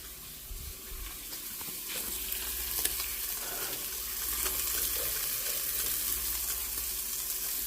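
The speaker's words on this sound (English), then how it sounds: "And so I have my bacon cooking over here" Bacon fries in a pan with a steady close sizzle and crackle, occasional sharper pops and faint stirring, continuous and fairly loud with no talking.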